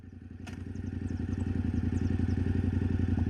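A Yamaha Tenere 700 motorcycle accelerates hard in second gear with traction control switched off, its engine note a steady pulsing drone that climbs in pitch and grows slightly louder, close by and heard without any talk.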